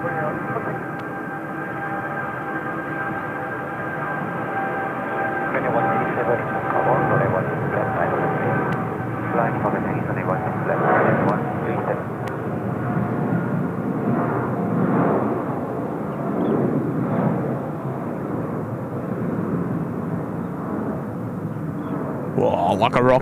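A Boeing 757 jet roars steadily on its takeoff run at Incheon Airport, a loud sustained engine rumble that swells slightly midway, with voices talking over it.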